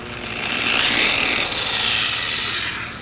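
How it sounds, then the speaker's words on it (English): Steady whirring hum of a Vevor random orbital polisher spinning freely, a close, even motor drone with a soft rubbing hiss that rises slightly then fades near the end, no voices. "So you can see that random orbital action as it kind of spins around."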